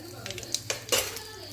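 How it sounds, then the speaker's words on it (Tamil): Curry leaves being stirred in a pan for coconut chutney, a few soft scraping and clinking strokes of a utensil over a faint sizzle, quiet and close. "கருவேப்பிலையை சேர்த்துட்டு ஒரு பெரட்டி விட்டுக்கலாம்"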